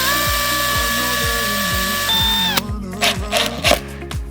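A power drill bores holes in a cabinet for overlay hinges, a steady whirring drive with rapid rhythmic clicking that winds down and stops partway, followed by handling noises close by.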